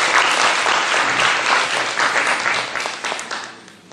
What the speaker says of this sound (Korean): 참 부모님께 큰 박수 다시 한번 부탁드리겠습니다